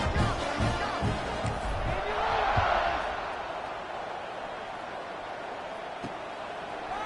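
A college football stadium crowd in an SMU Mustangs game roars before kickoff, a broad sustained cheer swelling over the first few seconds and then easing into a steady distant hum.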